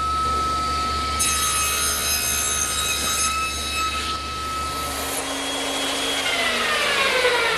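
A band saw cuts a tenon in pine 2x4 stock for a garden bench, its motor giving a steady hum with a high whine as the blade bites through the wood, loud and continuous with no talking.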